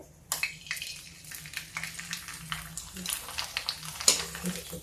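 Hot oil in a pan crackles and sizzles for cabbage and pea sabzi, bursting into a spattering hiss with irregular pops and crackles through the stretch, a low hum beneath and faint utensil clinks.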